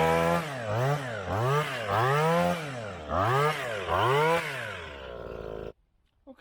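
An old two-stroke hedge trimmer engine revs up and down in about seven quick bursts, rising and falling in a rhythmic whine, then cuts out abruptly into near silence.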